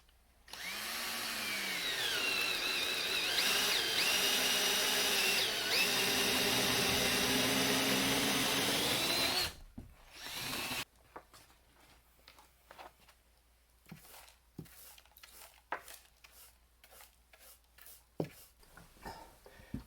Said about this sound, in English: I need to drill another hole in this bay underneath the switch box